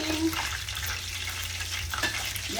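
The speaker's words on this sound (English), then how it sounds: "Our fish is frying." Ginger beer battered cod fries in a pan with a soft, steady sizzle and light crackles, fairly quiet and close, without talk.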